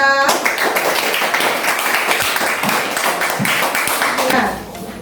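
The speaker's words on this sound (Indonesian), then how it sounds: "Tepuk tangan untuk kelompok 2." Steady applause from a group of second-grade children fills an elementary school classroom, dense clapping running throughout at moderate loudness with some voices mixed in, tapering slightly at the end.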